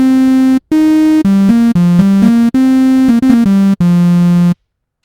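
Layered synthesizer preset from SynthMaster 3, mixing square, pulse and white-noise waveforms, playing a short sequence of sustained notes that step between pitches with brief gaps, loud and close, with no talking.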